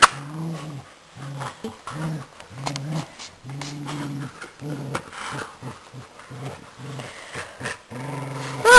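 Keeshond dogs growl and snarl in repeated bursts while play-sparring, close and loud, with brief yips between the rough rumbling exchanges.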